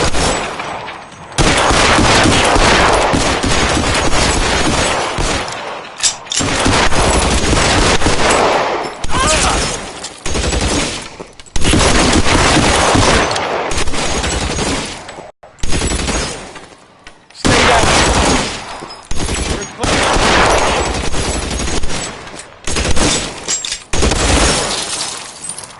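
Gunfire during a police shootout in the VR game LA Noire VR: loud repeated bursts of shots mixed with breaking glass, separated by short silent pauses.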